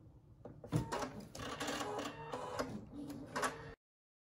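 A Husqvarna Viking embroidery machine stitches outlines on felt play food, making rapid mechanical chattering with rhythmic needle thumps for about three and a half seconds before stopping abruptly.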